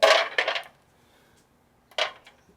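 Cut-off long bolts dropped together land in two bursts of bright metallic clatter, a loud jangling pile first and a shorter rattle about a second later, close by with no talking.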